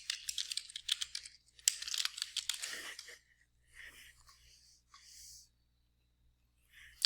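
Typing on a computer keyboard, a fast run of close, crisp key clicks that slows into a few scattered taps before going quiet.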